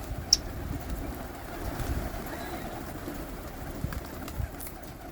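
Pigeons from a large loft flock of about 350 birds in Ballimaran, Old Delhi, murmur and coo softly within a dense, steady outdoor noise wash, with brief faint voices nearby.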